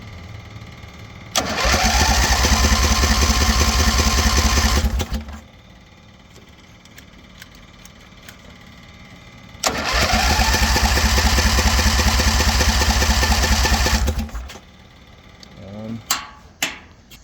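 A V-twin engine on a rat rod roadster go kart cranks in two loud, long bursts of several seconds each, churning without clearly catching, with quieter gaps and clicks between.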